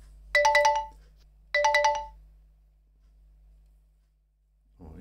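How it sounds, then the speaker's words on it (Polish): A kitchen water boiler's alarm sounding two separate bursts of rapid, trilling electronic beeps, loud and close, with a short sound at the very end. "takie tryngotanie to jest ten alarm"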